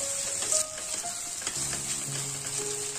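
Finely chopped onion frying in oil in a pan, a steady close sizzle with light scraping of a spoon through the pieces, no voices.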